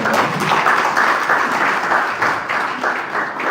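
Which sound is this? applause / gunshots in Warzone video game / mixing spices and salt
applause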